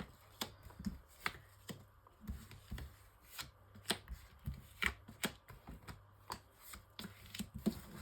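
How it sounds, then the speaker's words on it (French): Tarot cards being shuffled and drawn for a six-card reading, giving repeated crisp riffles and soft slaps of card stock, close and fairly quiet, with no talk over them. "Alors, tirage en 6 cartes pour nos amis Gémeaux."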